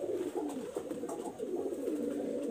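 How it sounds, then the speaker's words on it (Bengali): A Khulna golailal pigeon coos close by in soft, repeated throaty rolls that swell and fade in a steady rhythm, heard alone without speech. "এটা হলো আমাদের খুলনার বিখ্যাত সেই গলাইলাল কবুতর"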